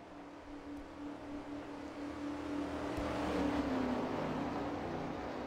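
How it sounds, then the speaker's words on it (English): Pace car coming off turn 4 ahead of a 1991 season race start, a steady engine drone that swells gradually as it draws nearer, with no voices over it. "the pace car is now coming off of turn number 4"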